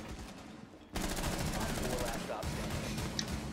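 Gunfire in Rainbow Six Siege: a long, rapid automatic burst erupts after a brief quieter lead-in, loud and close, with a short pause and then more sustained firing.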